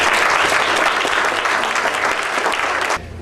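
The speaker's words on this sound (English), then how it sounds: "One last round of applause for everyone." A meeting audience gives a final round of applause at a district governor handover, dense steady clapping from many people that holds strongly for about three seconds and then drops off sharply.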